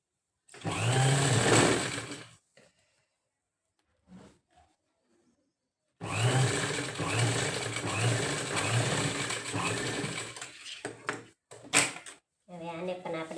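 A sewing machine stitches the edge of a mobile phone pouch, running in two loud close bursts of steady whirring, the second longer, separated by a pause with small handling knocks.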